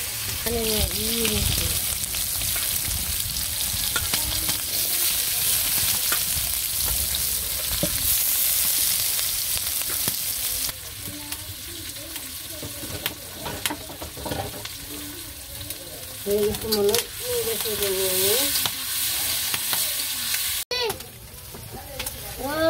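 Green chilies and onion frying in a pan in a village kitchen, a steady loud sizzle with occasional stirring scrapes, while people talk over it throughout.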